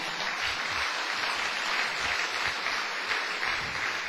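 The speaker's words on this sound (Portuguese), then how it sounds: "Agora sim você pode aplaudir o Senhor." A congregation in a church applauds, a steady wash of clapping that is fairly soft and spread out, running the whole time with no voices above it.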